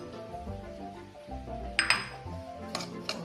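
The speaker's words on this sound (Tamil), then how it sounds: "அதோட இந்த 3 முட்டையும் போட்டுங்க." Eggs, three of them, are cracked and dropped into a bowl of chocolate brownie batter, giving a few sharp glassy clinks and taps against the bowl over faint background music, with no talking.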